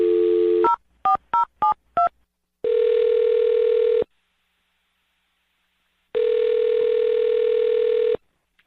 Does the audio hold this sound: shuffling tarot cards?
no